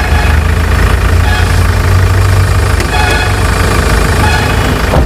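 A used car's engine idles just after starting, giving a steady, loud, low rumble that holds even for the whole stretch, with no voices.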